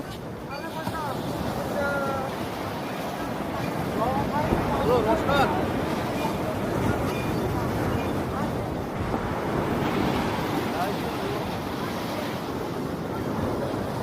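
Sea waves roll in at the Digha estuary beach with a steady rushing surf and wind buffeting the microphone, while people talk throughout.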